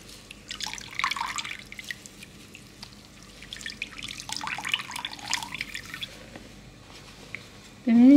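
Homemade apple vinegar drips and trickles from a cloth squeezed by hand, wet squishing and splashing in irregular bursts, with a sharp harmonic tone at the very end.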